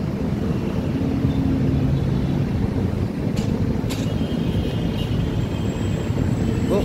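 An LRT light rail train rolls past close by with a steady, heavy rumble and rattling, mixed with traffic and street noise.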